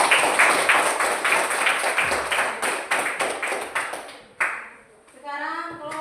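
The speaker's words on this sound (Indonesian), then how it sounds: "kita berikan tepuk tangan untuk kelompok 1" A classroom gives a round of applause for a student group, scattered claps that thin out into a few separate hand claps, then children's voices and talk.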